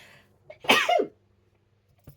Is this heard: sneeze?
yes